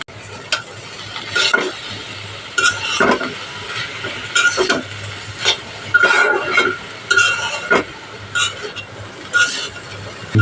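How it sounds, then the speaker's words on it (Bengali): A pan of cabbage and potato fry with chopped coriander is stirred with a metal spatula, giving a quiet, steady sizzle broken by repeated scraping and clinking strokes against the pan, close up and without talk. "ধনে পাতা দিয়ে আরেকটু সময় নেড়ে চেড়ে নামিয়ে নেব"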